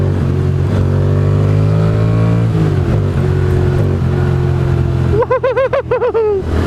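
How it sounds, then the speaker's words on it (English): Motorcycle with a Mivv GP slip-on exhaust, idling steadily, then a sharp throttle blip near the end: the revs rise and fall quickly in a loud, close burst. "Yeah, throttle bleep."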